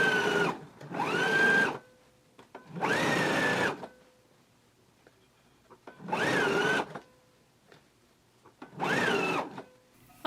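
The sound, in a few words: sewing machine understitching a shirt facing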